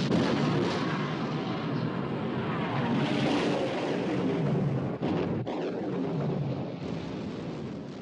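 Naval guns open fire in a war film, a dense, heavy roar of booming blasts and rumble that stays loud throughout, broken by one sharp cut partway through, with no clear voices.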